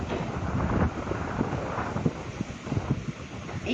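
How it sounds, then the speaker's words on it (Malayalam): Hot wind gusts across the microphone outdoors, a continuous rough rumbling roar that swells and dips in short surges, close and fairly loud with no talk. "ഈ കാറ്റ് വേണ്ടായിരുന്നു, ചൂട് കാറ്റ്."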